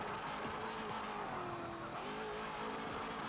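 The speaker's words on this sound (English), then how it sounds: "you just listen to the power cut with traction on" Race car in Forza 7 with traction control on, its engine droning and stuttering as power is cut, pitch wavering up and down alongside tire noise, loud and continuous throughout.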